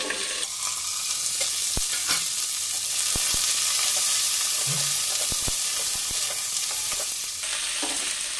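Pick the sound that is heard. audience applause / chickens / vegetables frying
vegetables frying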